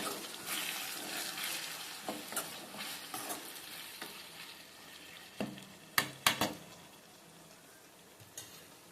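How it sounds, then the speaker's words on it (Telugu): Ingredients for cucumber chutney frying in a pan, a soft, low sizzle under intermittent scraping and stirring, with a few sharp utensil clinks against the pan, fairly quiet overall. "అది వేగుతుంది ఫ్రెండ్స్."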